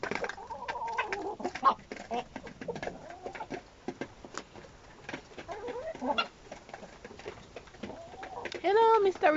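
Clucking and cooing bird calls from a rooster close by, with a person talking softly over them and a louder burst of calls near the end.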